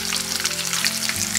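Breaded chicken breast fillets fry in a pan of hot oil, giving a close, steady crackling sizzle over a faint tonal hum with no one speaking.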